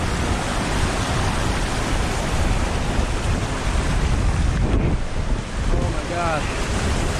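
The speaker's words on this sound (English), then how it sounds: "The rain is just pouring in now." Dense, steady roar of heavy rain pouring beside a rising river on a mountain hike, loud and unbroken throughout, with a brief exclamation from a person near the end.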